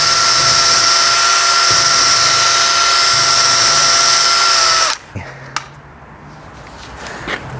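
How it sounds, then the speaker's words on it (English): A power drill boring a pilot hole through timber while fitting garage doors runs loud and steady for about five seconds, whining continuously, then cuts off abruptly, leaving a few small knocks and clicks. "We're gonna go all the way through with that so we can drill from both sides."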